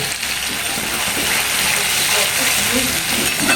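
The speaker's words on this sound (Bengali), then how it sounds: "কালো জিরে আর শুকনো লঙ্কা ফোড়ন দিলাম তো বাটাটা দেবো এবার ফুটফাট ফুটফাট করে" Ground spice paste hits hot oil already crackling with black cumin and dried red chillies, a loud rushing sizzle that swells and holds close to the pan, with a voice faintly underneath.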